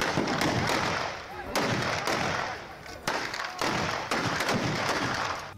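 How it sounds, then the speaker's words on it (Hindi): Rapid, dense bursts of gunfire at a wedding crackle and thump in repeated volleys, loud and echoing, with voices and crowd noise mixed underneath. "किसी शादी समारोह के इस वीडियो में इतनी गोलियां चली"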